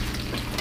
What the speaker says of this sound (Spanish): voy a añadir un poco de soya que tengo aquí. Un poquito, no mucho. Voy a mezclar otra vez.